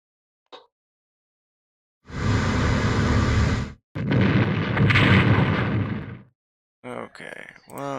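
A battleship sinks in Strategic Command, a World War 1 strategy game, with two long, roaring explosion bursts of several seconds each. Brief voice-like sounds follow at the end.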